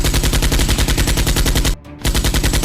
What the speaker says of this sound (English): The policeman rushed over and shot towards Squat